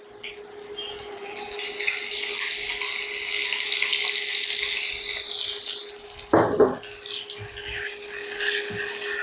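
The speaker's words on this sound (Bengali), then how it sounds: "এই ঘিয়ের মধ্যে আমি সোকড রাইস, যেটা ভেজানো চাল ছিল, এটা দিয়ে দিচ্ছি" Soaked rice tipped into hot ghee in a pan for saffron sweet rice, giving a steady watery hiss throughout and a brief louder pour and sizzle burst near the end.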